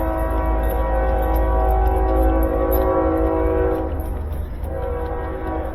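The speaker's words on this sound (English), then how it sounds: "Well, Eddie, there is a train." A train rumbles past close by, a loud steady roar with sustained horn-like tones that ease off toward the end.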